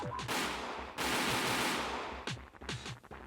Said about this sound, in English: moments later we heard a tremendous bang outside her front door